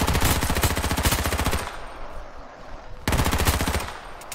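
Rapid automatic gunfire from Uzis in the video game H1Z1: two loud, close bursts of fast repeated shots separated by a brief quieter gap, with no talk.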